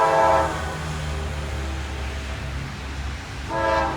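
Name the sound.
westbound freight train with many locomotives passing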